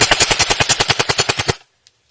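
An airsoft gun on an 8.4 V 1100 mAh battery firing 0.28 gram BBs, a single quick burst of about fifteen evenly spaced, sharp mechanical shots lasting a second and a half, then silence with one faint click.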